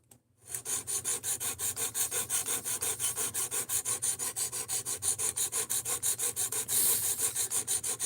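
A Tonto knife is drawn over and over across an Ozark Trail sharpener, making rapid, rhythmic rasping strokes, about five per second, close and loud after a brief quiet start, with no voices.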